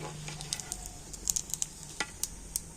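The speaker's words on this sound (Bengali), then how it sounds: "তো দেখুন কত সুন্দরভাবে পিঠেগুলো ভাজা হচ্ছে।" Rice pitha sizzling as it fries in hot oil, a steady crackling hiss close by with sharp spatters and pops scattered throughout, plus a few light clinks of a utensil.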